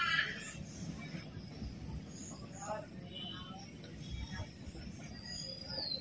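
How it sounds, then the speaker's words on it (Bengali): Train creeping slowly along the tracks, a faint, low rumble of rolling wagons with occasional thin wheel squeals, heard from a distance with a soft voice murmuring in the background. "তা দেখতেছেন ট্রেনটা কত আস্তে আস্তে চলতেছে।"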